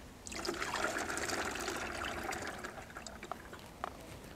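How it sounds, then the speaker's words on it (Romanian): A yeast, sugar and unchlorinated water mixture is poured into a one-litre plastic bottle, making a close gurgling trickle that runs steadily and then thins into a few final drips. "Venim cu o sticlă de un litru de apă tot așa, fără clor și punem compoziția în această sticlă."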